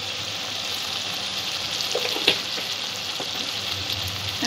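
Spice masala for Bengali chicken ghugni fries in a pan over a low gas flame, a steady soft sizzle with a few light stirring scrapes and clicks, no voices.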